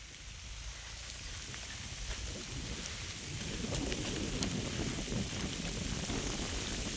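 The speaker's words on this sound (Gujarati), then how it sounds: "ત્યાં વરસાદ આવી ગયો છે" Steady rain falls close by, a dense hiss of drops that grows heavier and louder after the first few seconds.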